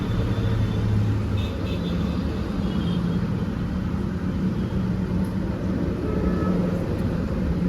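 A Tata Punch with a manual gearbox and an RTO-approved CNG kit fitted, idling on CNG: a steady low engine rumble, constant and close, with no change in pitch or loudness.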